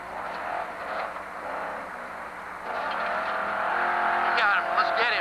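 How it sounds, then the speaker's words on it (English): An off-road pro race truck engine at the 2003 Parker 425 desert race revs and whines continuously, rising in pitch and intensity toward the end, with tires scrabbling underneath. "Yes, they've spotted Kevin's truck up ahead."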